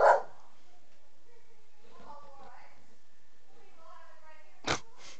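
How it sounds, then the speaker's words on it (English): A pet dog barks indoors: one sharp bark at the start and another near the end, with quiet whimpering and yipping sounds between them, all fairly close. "And that was my dog."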